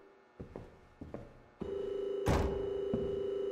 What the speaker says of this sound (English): Isn't somebody gonna answer that phone?